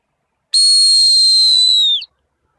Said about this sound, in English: So I'm going to get my whistle ready because I'm going to stop her.